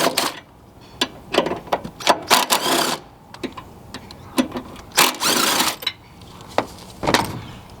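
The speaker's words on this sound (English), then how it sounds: "there are three 10mm screws. Go ahead and loosen and remove all of those." A ratcheting tool works the 10mm screws loose from a Scion air filter box, a close run of sharp clicking bursts and short metallic rattles broken by brief pauses.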